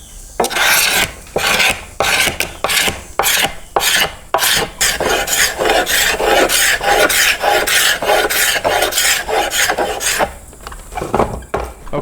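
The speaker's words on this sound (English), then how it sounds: "I'm gonna scrape it off with this scraper until I get to a point where I can actually see my rings" Steel scraper rasping bark off a black locust bow stave in repeated close, loud strokes, a steady rhythm of scratchy pulls running the whole length with brief gaps between passes.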